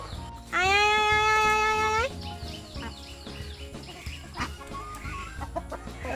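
Chickens at feeding time on a Bengali homestead give a loud, near squawking call, followed by softer scattered clucks and rustles, with a person's voice nearby.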